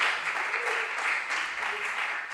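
Audience applause for contestants at a junior science and maths quiz in the Ashanti Region, a steady wash of clapping that stays even and moderately loud throughout, with faint voices mixed in.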